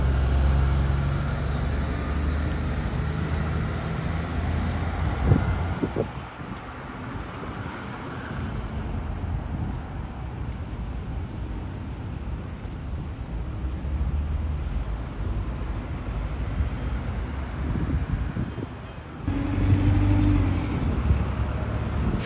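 A London double-decker bus pulls away from Southgate bus station, its engine a steady loud rumble mixed with wind buffeting the microphone, with a brief surge partway through and a renewed swell near the end.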